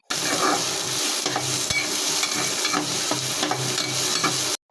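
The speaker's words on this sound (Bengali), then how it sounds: "এই পেঁয়াজ কুচিগুলো হালকা বাদামি হওয়া পর্যন্ত ভাজতে থাকবো" Chopped onions frying in a little oil in a wok, a continuous close crackling sizzle broken by rhythmic scrapes of a spatula stirring, loud and alone with no talk.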